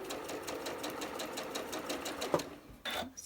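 A sewing machine stitches a quarter-inch seam on an arrows quilt block, running a steady, rapid rhythmic clatter at close range, then stopping briefly before a short final burst.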